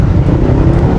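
A Honda Click 125 scooter with a replica aftermarket exhaust pipe idles nearby, a low, deep, bassy rumble with a slight rough throb, continuous and fairly loud.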